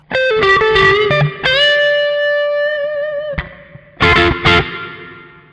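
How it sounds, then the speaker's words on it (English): Electric guitar through a Mooer GE200 reverb preset: several picked notes and a sustained chord ring out and decay in a lush reverb tail, followed by two short strummed chords. "the sound with the reverb is this one"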